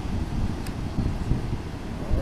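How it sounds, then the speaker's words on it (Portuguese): Strong wind buffeting a microphone on the city beach at Mongaguá on Brazil's south coast during overcast, stormy weather, a loud continuous low roar and rumble. "Muito vento, pessoal."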